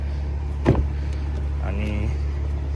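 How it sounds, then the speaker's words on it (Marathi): A snow-covered car parked on a university campus in winter is unlocked with a sharp click, then its door is opened with a short mechanical movement. Both sounds are close and fairly quiet over a low, steady rumble. "आता आपण ओपन करू गाडी"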